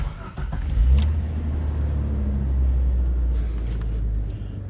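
A Jeep XJ Cherokee engine cranks briefly, catches and settles into a steady, close, rumbling idle with no one speaking.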